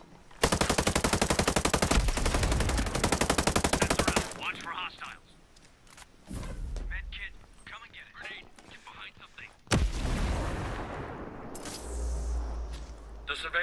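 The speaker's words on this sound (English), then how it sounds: "Hostiles are shooting." Automatic gunfire in Ghost Recon Breakpoint, a long loud close burst of rapid shots, then quieter scattered shots and muffled combat noise, with a second heavy burst near the end, under faint voices.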